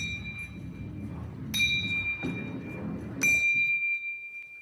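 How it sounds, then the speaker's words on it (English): Bells struck one after another as a ball rolls down an inclined ramp, clear ringing chimes at roughly even intervals over a low rumble of rolling, with no talk. "So we should hear the bells ringing at equal intervals in time."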